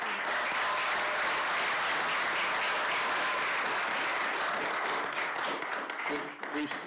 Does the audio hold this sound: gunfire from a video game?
no